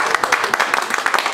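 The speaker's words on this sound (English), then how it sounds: "Can we give a round of applause to the gentleman?" Brisk audience applause for a gentleman at a business forum, dense overlapping claps from a crowd, lively and fairly close.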